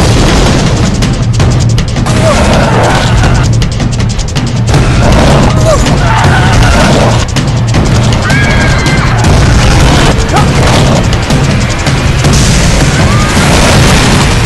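Napalm explosions in a film trailer for a shark action movie, a dense run of loud booming blasts and crashes with rumbling low end and scattered pops across the whole stretch.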